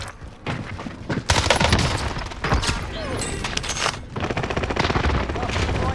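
Air strike and heavy gunfire in a military video game, dense bursts of rapid shots and booms crackling on and off at close range, with brief gaps between the volleys.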